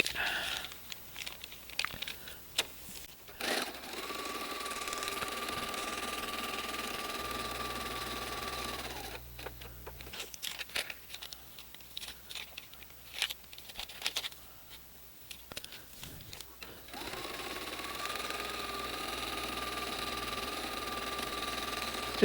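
A sewing machine stitches around the outside line of a quilt block in bursts, its rapid mechanical whirring starting and stopping several times with quiet pauses between runs, and there is no talking.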